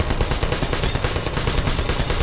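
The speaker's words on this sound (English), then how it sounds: "I'm still trying to figure out how to get past these shooting robots" Robot turrets in the video game Portal firing rapid continuous bursts, a dense, loud rattle of gunfire that does not let up.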